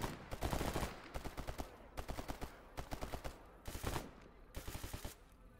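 Bursts of rapid gunshots in the survival shooter Stalker GAMMA, sharp repeated cracks in short volleys separated by brief pauses, fairly faint overall and with no one talking.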